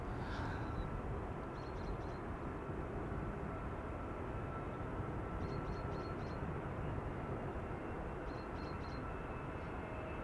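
Airbus A320neo airliner arriving at Amsterdam Schiphol from Newcastle, a steady low engine roar that holds loud and even throughout, with faint chirps above it.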